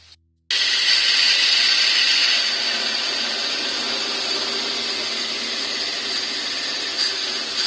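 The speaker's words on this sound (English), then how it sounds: "I'm going to give it a little blast with the heat gun just to make sure it's completely dry" A steady, loud blowing roar starts abruptly after a brief pause and continues unbroken, a close heat gun hissing while drying the finish on a turned walnut box, with no talk.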